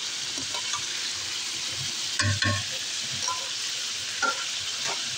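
Chicken meat frying with ground garlic and ginger, a steady close sizzle with occasional scraping stirs of a spoon in the pan.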